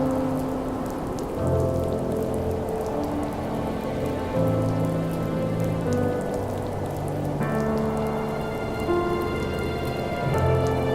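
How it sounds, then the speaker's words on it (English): Steady rain in the video game The First Tree patters on surfaces beneath soft, sustained musical tones, the drops forming a continuous hiss that carries on without talk. "It's raining."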